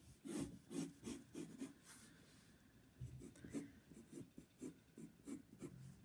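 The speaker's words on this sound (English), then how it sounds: "I'm going to go ahead and draw my fallen log right now." A pencil scratches across paper while drawing a fallen log, a quiet, close series of rhythmic strokes and rubs in short bursts with brief pauses.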